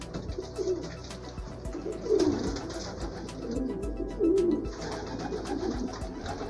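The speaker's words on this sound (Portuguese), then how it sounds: "Só chegando pomba aí, ó." Pigeons at a Sunday-evening outdoor feeding, coos rising in a few louder bursts over a steady murmur of birds gathered close to the feed.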